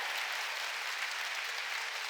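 A church congregation applauds together during a Sunday worship service, a dense, steady wash of many hands clapping that fills the room evenly from start to finish, with no voices rising above it.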